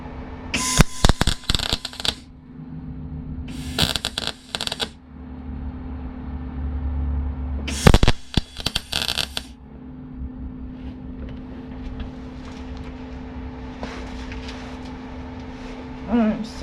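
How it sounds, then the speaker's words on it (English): Welding on a Rover P6 car, heard as three loud, close bursts of harsh crackling, each lasting one to two seconds and separated by quiet pauses over a low steady hum. "let's do another bit of welding on there"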